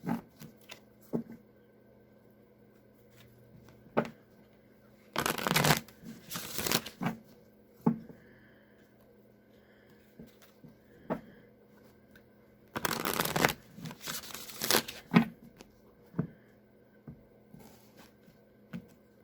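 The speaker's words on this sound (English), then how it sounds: "I'm just going to shuffle the deck 3 times, cut the deck, draw a card" A deck of cards being shuffled in two loud riffling bursts, separated by quieter tapping and handling sounds, close up with no talking.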